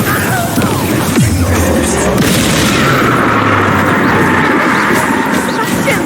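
A Bombarda explosion spell goes off in the Hogwarts Legacy game as a loud, booming blast, layered with crashing combat noise and a constant dense roar that fills the whole moment.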